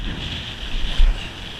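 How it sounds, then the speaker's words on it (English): Ocean waves rolling onto a beach and breaking into whitewater during a storm, a steady broad wash with wind buffeting the microphone and a slightly louder surge near the end. "right here on the right side, where all these waves are rolling in and creating a lot of great whitewater"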